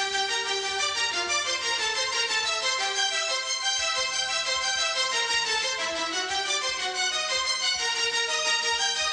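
Strings play a steady, pattern-based arpeggiated ostinato with repeating scalar runs. The figure is dense and continuous, and it carries on at an even loudness under a soft low pulse, with no voices.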